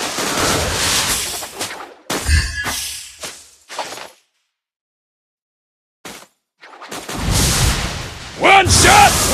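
Loud gunfire in a video game, rough and bursty, with a clear silent gap in the middle before the shooting returns in strength. Shouting or voices come through alongside the shots.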